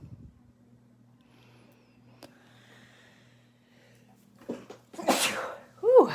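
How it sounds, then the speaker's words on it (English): A quiet room hum, then a few sharp breaths building into a single loud sneeze, followed by a short vocal exclamation. "Ooh, I had to sneeze."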